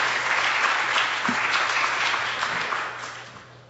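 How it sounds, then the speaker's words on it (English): An audience at a thyroid medicine case-study session applauds, a dense, sustained clatter of clapping hands that stays loud before easing off slightly toward the end. "if we can just please have a round of applause for the ATA and the chairs"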